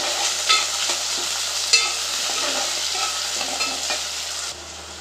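Green chillies and carrots frying in a pan for a cauliflower mixed-vegetable curry, a dense, even sizzle close up with a few utensil taps, running steadily until it cuts off near the end.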